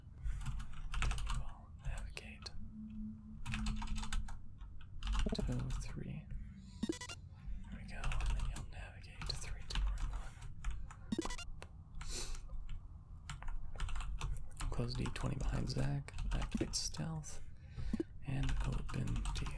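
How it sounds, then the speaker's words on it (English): Quiet keyboard typing for the ASMR space-exploration game Duskers, steady clicking keystrokes close to a microphone, running under soft near-whispered talk throughout. "It's difficult to type with a mic in front of you."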